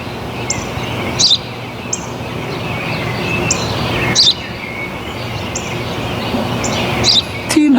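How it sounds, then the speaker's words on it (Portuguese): A sparrow chirps in short, bright bursts that repeat every second or so over a steady outdoor background hum, fairly close and clear. "Ένα σπουργίτι."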